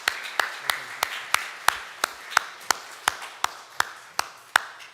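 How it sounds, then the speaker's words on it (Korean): Clapping at a Sunday church service to welcome visitors: faint, sharp, evenly spaced claps in a steady rhythm, about three per second, with no talking over them. "오늘 박수로 환영하겠습니다"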